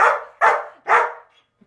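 A dog with a habit of excessive barking lets out three loud, close barks in quick succession, followed by a brief quiet.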